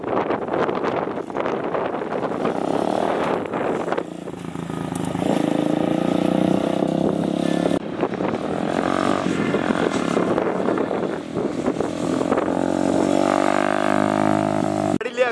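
A motorcycle being ridden while a scene is filmed, its engine droning and shifting in pitch as it moves, mixed with heavy wind buffeting on the microphone, loud and continuous for the whole stretch.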